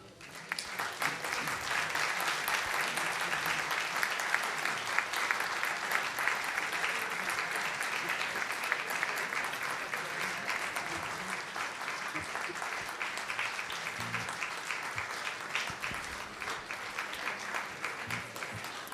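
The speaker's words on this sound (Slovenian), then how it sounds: "še nadaljujmo z aplavzom." Sustained applause fills the hall at the Slovenian Medical Chamber's Hippocratic awards ceremony, a dense, even clapping from a large audience lasting the whole stretch without pause.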